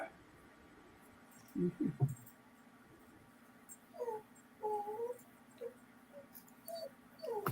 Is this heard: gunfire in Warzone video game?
no